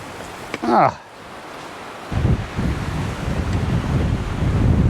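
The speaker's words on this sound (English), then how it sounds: "They're ridiculous winds up here." Strong wind of 30 to 50 knots roars and buffets against the microphone in heavy, uneven gusts in the Arkansas Ozark National Forest, after a brief voice at the start.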